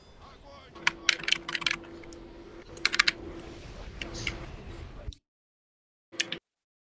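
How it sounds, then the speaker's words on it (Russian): A computer keyboard clatters loudly with quick bursts of typing keystrokes, close to the microphone, during an online game session, pausing briefly before one last short flurry. "Ну у кого клавиатура хуярит?"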